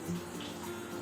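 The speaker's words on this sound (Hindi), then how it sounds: "और साथ ही चला जाएगा पानी।" Water poured into a pot of browned onions while cooking chicken degi pulao, a brief, close, steady running splash with no speech over it.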